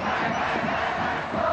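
A packed stadium crowd roars and cheers continuously during a Japan versus Oman 1998 World Cup Asian qualifier football match at Tokyo's National Stadium, forming a loud, steady wall of sound with no break.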